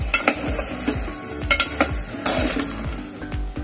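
A spatula stirs and sautés a Mumbai-style pav bhaji mixture with potatoes in a pan, making quick, rhythmic scraping strokes over a light sizzle, close and clear.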